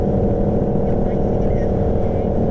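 A motorcycle engine on a road ride while racing an S1K, heard as a loud, close, steady droning roar with little change in pitch across the whole stretch.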